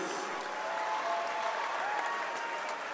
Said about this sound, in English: Again, another round of applause, the Norton Lancers.